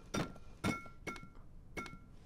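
Four sharp thunking knocks land on a pane of glass in a video game, hitting about every half second with short ringing clinks, the glass never breaking.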